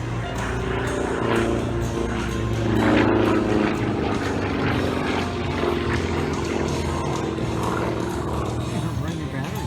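An aerobatic propeller airplane maneuvers at an air show, its engine droning steadily and swelling as it dives, while a commentator talks over it.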